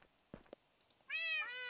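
A cat in a video game meows twice in close succession, clear and fairly loud, after a few faint clicks and taps.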